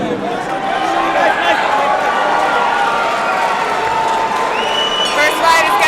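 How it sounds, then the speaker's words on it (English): Excited crowd at a hardcore cage fight event, a steady loud roar of cheering and shouting that fills the whole stretch, with scattered claps and whistles rising near the end. "the crowd looks very excited already"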